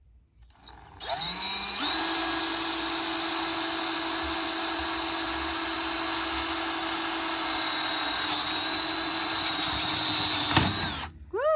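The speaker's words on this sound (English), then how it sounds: "It's a 7/8 inch paddle bit." A power drill with a 7/8 inch paddle bit boring through PVC pipe, a steady high-pitched whine running for about nine seconds after spin-up, then winding down.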